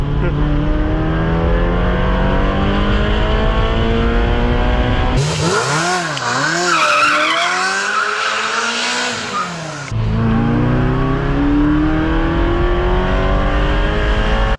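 A Ferrari engine roars and revs loudly, pitch climbing and falling through several surges, with a brief muffled stretch in the middle before the roar returns.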